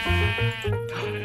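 A sheep in Minecraft bleats in a quick, wavering, nasal cry, loud and close, repeated in short pulses over a little more than a second.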